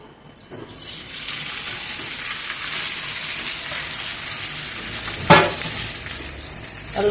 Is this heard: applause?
no